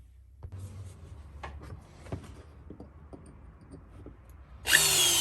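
Quiet workshop clatter with a few taps, then a short, loud burst of a power drill whirring near the end, drilling a 1/16 hole in a two-stroke engine's top-end part.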